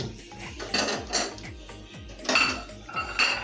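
Spices being stirred in a pot while cooking a mutton and potato curry, a metal spoon scraping and clinking against the pot in a steady rhythm, close and clear with no talking.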